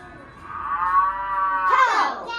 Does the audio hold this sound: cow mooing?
yes